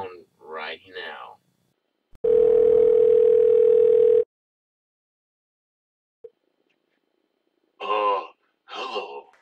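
A steady telephone dial tone holds for about two seconds between bursts of speech, loud and clean against an otherwise silent line.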